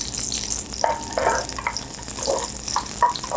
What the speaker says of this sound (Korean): 오일이 데워지면 제일 먼저는 마늘을 붓습니다